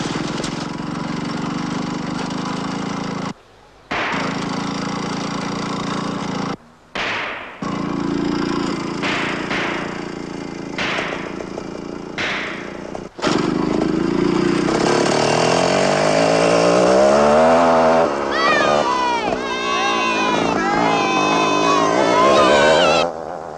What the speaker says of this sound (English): Sounds like a go-kart.